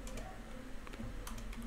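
Quiet keystrokes on a computer keyboard while text is typed into Notepad, a handful of light ticking taps over a steady low background hum.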